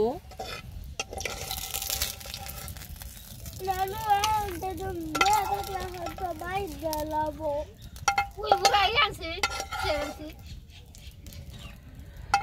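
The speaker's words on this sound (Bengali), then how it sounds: "শুকনা মরিচ ভাজি করলে যে একটা গ্রান বেরোয়" Dried red chilies fry in a pan with a steady, soft sizzle and occasional stirring scrapes, while voices carry on in the background.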